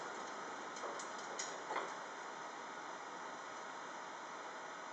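A cool mist coolant unit on a milling machine hisses in a steady, faint, even stream, with a few soft ticks early on; no voices.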